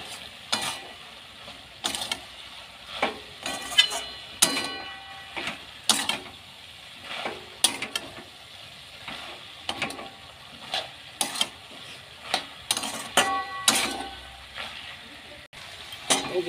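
Pumpkin greens being stir-fried with ginger-mustard paste, for a jhinge-begun chachchori, with a spatula scraping the pan in repeated bursts over a steady low sizzle, close and fairly loud, with no talking.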